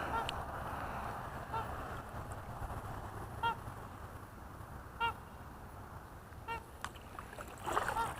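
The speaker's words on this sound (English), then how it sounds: "Look at the ducks, the mallards, the mallards, the mallards and the swans." Mallard ducks and swans call in a grassy marsh on a morning muskrat trapping line, with faint honking cries repeating every second or so over steady wind and water noise.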